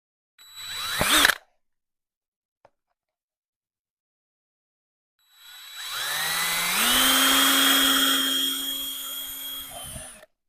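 Drilling a hole near the bottom lip of a 13-inch LED bulb: a brief drill whir at first, a silent gap, then a longer burst as the motor revs up and holds a high steady whine before stopping.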